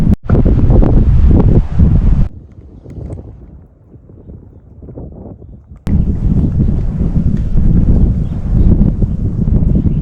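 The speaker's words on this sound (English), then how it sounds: "The wind's kicking up" Strong wind buffets the microphone on an open ranch during a squirrel hunt, loud roaring gusts at the start, easing to a softer rustle in the middle, then surging loud and steady again to the end.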